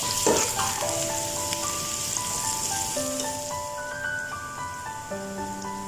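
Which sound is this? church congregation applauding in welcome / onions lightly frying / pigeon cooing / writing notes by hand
onions lightly frying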